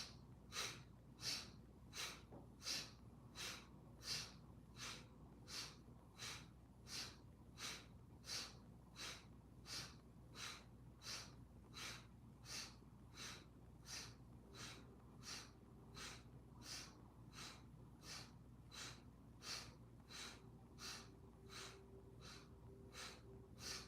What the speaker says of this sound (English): twisting, inhaling to the left and exhaling to the right in that sniff and throw breath